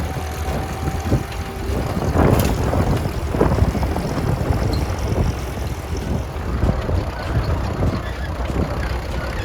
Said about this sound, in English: And here is David Gaard of South Dakota, plowing with an M-Farmall, pulling a John Deere 44 plow equipped with EP bottoms.